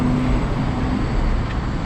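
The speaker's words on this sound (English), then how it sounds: "Big ass truck just went by, sorry about the noise." Steady broadband rumble of heavy road traffic on a New York City street, a big truck rolling past nearby with a continuous low engine drone and no talk over it.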